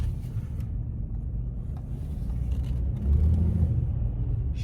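A big truck's engine drones on the road, a steady low rumble that swells louder toward the end as it pulls away, with no speech over it.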